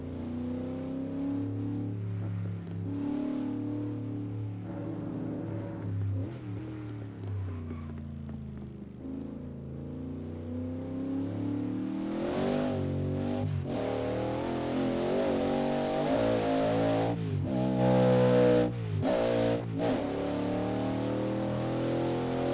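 Race car engine in the Assetto Corsa racing game, revving hard and climbing through gears with sharp shifts and throttle lifts, loud and up close throughout with no talk.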